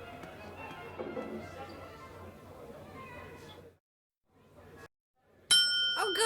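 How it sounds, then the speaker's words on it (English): A bright bell rings out in a VeggieTales DVD menu. It comes as a sharp metallic ding with a shimmering decay near the end, following a stretch of animated talk and a brief silence. "Oh good, the bell."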